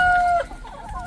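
A chicken in a farm coop gives a short, close cluck-like call at the start, then the sound drops to quiet background rustle.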